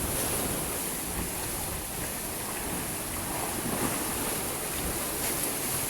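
Rough sea surges below a cliff in a continuous, broad roar of breaking waves with no pauses, steady and fairly loud.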